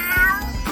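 A man imitates the yowl of a mating cat in a short, strained wail, close and clear without other talk.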